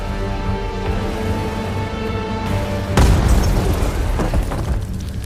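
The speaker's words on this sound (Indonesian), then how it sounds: "mereka dikejutkan dengan pelontar granat" A grenade launcher blast in an action film hits as a sudden heavy explosion partway through, breaking over a sustained musical drone that continues with rumbling debris afterward.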